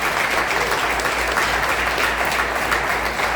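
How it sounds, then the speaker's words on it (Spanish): A church congregation applauds during a sermon, dense continuous clapping filling the room evenly at a loud, close level for the whole stretch. "Aplaude al Señor."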